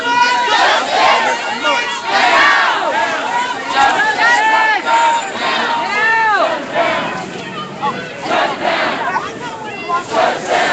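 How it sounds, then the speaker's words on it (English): Outside the Ferguson police department, a large crowd of protesters chants and shouts together, a loud, steady rhythmic roar of many voices with rising calls that carries on throughout. "So this is a huge crowd compared to what we normally have"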